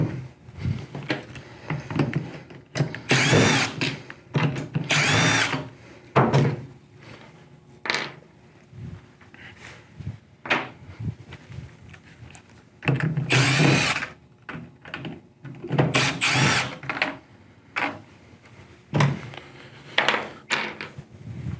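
A power drill backs screws out of a panoramic swing door jamb in short, intermittent whirring bursts separated by pauses, with small metallic clinks of screws being set down, close and without talk.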